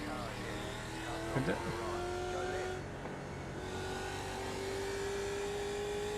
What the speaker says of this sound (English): It's a much louder car, this.